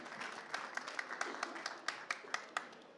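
An audience applauds panel speakers with scattered, distinct claps over a low murmur of voices, fairly quiet and distant.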